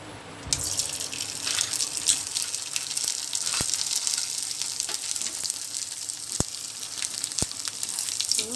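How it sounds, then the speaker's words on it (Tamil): Rice koozh vadagam fries in hot oil with a loud, close, continuous bubbling sizzle and a few sharp clicks of a utensil, starting abruptly and holding steady with no speech. "வடகம் சூப்பராக பொரிஞ்சு வருது."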